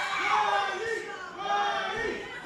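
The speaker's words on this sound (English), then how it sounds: "This crowd squarely behind her in Ridgefield Park." A women's wrestling show crowd in Ridgefield Park, New Jersey, cheers and shouts in a steady, loud roar. The noise swells and dips over the moment, with mixed voices blending into the din.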